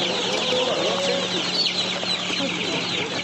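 Chickens cluck and chatter continuously at a chicken market in Nookat, with a steady background hum and scattered bird calls layered throughout.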